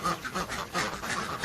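A flock of ducks and geese at feeding time quack and honk in a dense, continuous chorus, close and fairly loud, with no talk over it.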